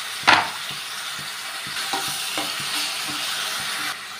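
Ground onion paste goes into hot oil in a kadai, a sharp splash and hiss at first, then a steady frying sizzle with soft scraping stir strokes, close and moderately loud.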